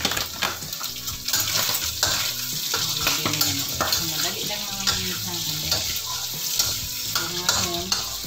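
Pancit noodles are tossed and stirred in a hot pan, with utensils scraping and clanking against metal over a steady sizzle, close and busy.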